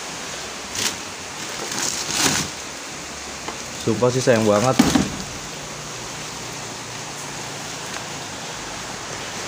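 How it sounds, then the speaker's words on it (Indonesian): Heavy rain pours outside an abandoned house as a steady, dense hiss throughout, with someone speaking briefly over it. "Deras, lumayan deras hujannya."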